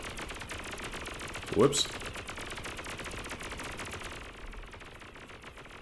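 Continuous rapid gunfire from units in the strategy video game Beyond All Reason, a dense rattling barrage over a noisy battle bed, with one louder burst midway and a man's brief spoken exclamation.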